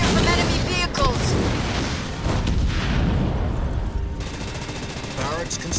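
Enemy vehicles open fire in the strategy game Halo Wars 2, with repeated gun bursts and booming explosions layered over a dense battle din, while a voice speaks over the noise.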